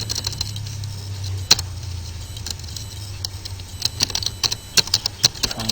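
Computer keyboard typing while coding, irregular bursts of close key clicks over a low steady hum, growing denser toward the end.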